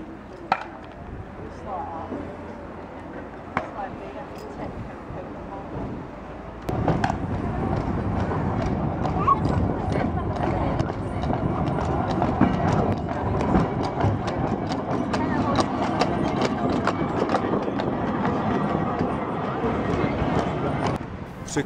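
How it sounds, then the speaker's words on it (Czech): Horse hooves clatter on the Douglas horse tramway at the Derby Castle station on the Isle of Man, irregular clip-clop knocks over a busy outdoor background that grows louder partway through, with people talking throughout. "Vypřání koně ve stanici Derby Castle."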